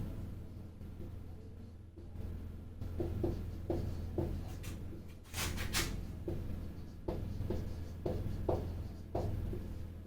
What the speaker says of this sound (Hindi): मैं दोनों के नाम लिखता हूं